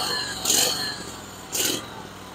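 A DR field and brush mower engine idling with a low, steady, moderately quiet hum, broken by two brief hissing swells about a second apart.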